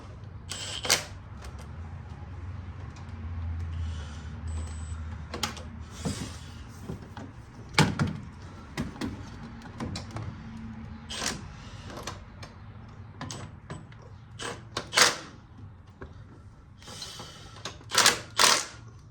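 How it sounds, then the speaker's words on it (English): Ratchet and socket tightening timing cover bolts on a 1999 Chevy S10 2.2L: sharp bursts of clicking ratchet strokes in irregular runs, close and distinct over a quiet garage background. "now I'm going to do a little bit more with the ratchet and socket"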